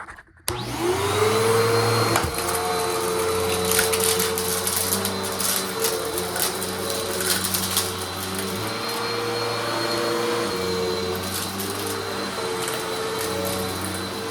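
A Eureka Uno 2997-BVZ upright vacuum cleaner runs steadily and loudly with a constant motor whine and airflow hum, starting abruptly after a brief pause and continuing without speech.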